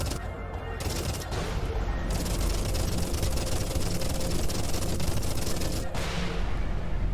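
Rapid spaceship gunfire in Everspace 2, shooting at mines: dense, continuous bursts of sci-fi weapon shots over engine rumble, loud and sustained with only brief pauses.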